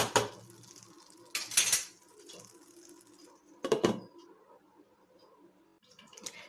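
Several sharp metallic clanks as a lid is set onto a pan of Kerala-style brinjal vindaloo, with quieter rattles and scrapes between the louder hits, close up and without talk.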